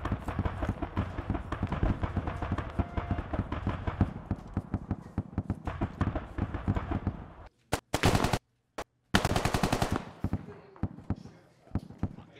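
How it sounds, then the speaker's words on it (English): Rapid full-auto gunfire in the military shooter game Squad, set near the Russian-Ukrainian border, crackles in dense sustained bursts for several seconds, then breaks into a few short sharp volleys before quieter gaps. "Turn your weapons to auto. Full auto."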